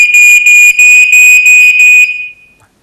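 A household smoke detector blares a very loud, piercing high electronic tone, pulsing in rapid repeated bursts before cutting off and fading, with no voices.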